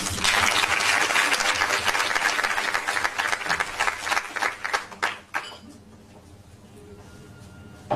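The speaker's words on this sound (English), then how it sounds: "A round of applause, please." An audience at a talk on South African women applauds loudly, a full dense burst that thins into scattered claps and fades out around the middle, leaving a quiet room tone.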